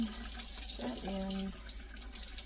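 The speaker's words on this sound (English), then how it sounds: "Give it another rinse." Water runs softly from a kitchen tap as something is rinsed under it during slow cooker pork tenderloin preparation, a faint steady stream with a short tonal sound partway through.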